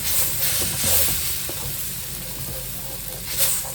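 A masala spice mix sizzles and hisses steadily in a hot pan while being stirred for a mango-peel dinner. The frying noise stays close and fairly loud, with occasional scraping bursts.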